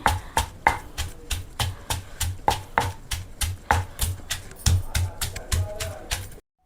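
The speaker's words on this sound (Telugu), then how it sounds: "బీరకాయ ముక్కలు వేసి దంచేసుకోవడమే" Ridge gourd pieces are pounded in a stone mortar for chutney, a steady run of sharp, evenly spaced thuds close by that stops abruptly at the end.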